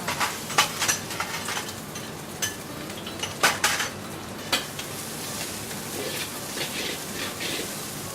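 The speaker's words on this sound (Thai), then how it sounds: "ก็เราผัดพอกระเทียมหอมใช่ไหมคะ" Bacon, shallots and garlic stir-fry in a pan: a steady close sizzle with repeated metal utensil scrapes and clanks against the pan, louder at first and then settling.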